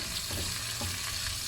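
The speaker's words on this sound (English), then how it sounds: "So I'll stir fry the ginger" Ginger stir-fried in a pan for a red snapper, tofu and clam fish soup: a continuous, bright, dense sizzle close up, with faint stirring motion and no speech.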